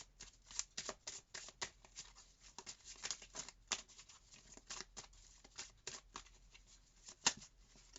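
Tarot cards being shuffled up close, a steady run of crisp riffling and slapping bursts with brief pauses, heard alone without talk.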